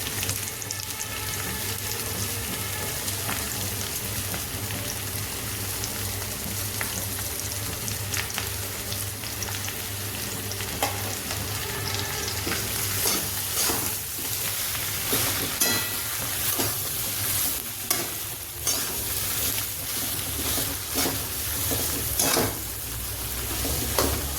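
Frozen peas sizzling in a pan as they are fried and stirred while making samosas at home, a steady close hiss of frying broken by scraping stirs and brief clatters, with no one speaking.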